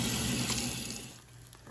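A kitchen tap runs cold water over fish being rinsed before seasoning, a faint steady gush and splash that eases off slightly toward the end, with no voices.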